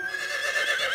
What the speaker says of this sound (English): Whoa, horsey!